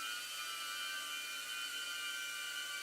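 A small camera drone hovers and descends to land, giving a steady high-pitched whine with bright tonal bands, like a dentist's drill, continuous and fairly loud with no talk.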